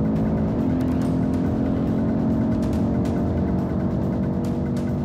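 Audi RS 3 at full speed along the back straight of a racetrack, engine droning steadily and loud with a sustained high-speed roar and rushing wind, constant throughout with no talk.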